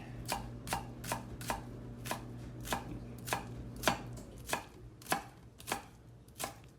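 A knife chops onion and cilantro on a cutting board for salsa, a dozen crisp evenly spaced taps about every half second, close and clear over a faint steady hum, no talking.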